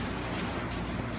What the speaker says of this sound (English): we just start a little brush to kind of break up the stuff that's really kind of heavy duty